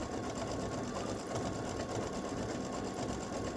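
An embroidery machine runs steadily, stitching a satin stitch outline around scissors and rose designs, its rapid needle hum continuous and close throughout with no pauses or talk.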